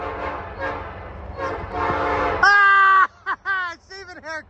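Freight train CA-90L, led by GE 70M and Gevo locomotives, sounds its horn near at CP 661 Dalton. The horn plays the shave-and-a-haircut rhythm: one long note, then a run of short clipped blasts, after people talk over rail noise.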